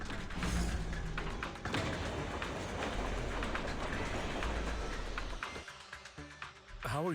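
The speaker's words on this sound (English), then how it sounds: "And we move the train." A train rolling in the video game Zenless Zone Zero: a steady, loud rumbling run with rhythmic clatter throughout, thinning out near the end, with no talking over it.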